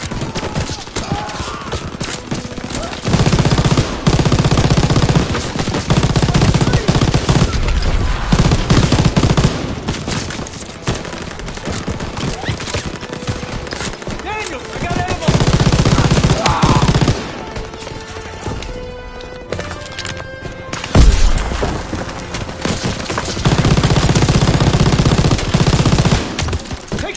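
Loud, rapid machine gun bursts fire from a mounted MG in the Call of Duty WW2 video game, alternating with brief pauses across a long stretch of heavy, near gunfire and battle noise.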